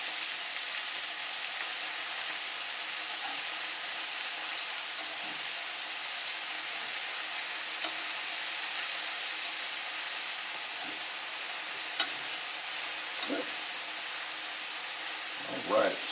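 Thin slices of turmeric caramel pork loin fry in a pan with a steady, soft sizzle throughout, broken by a few faint clicks and a small clatter near the end; no talking.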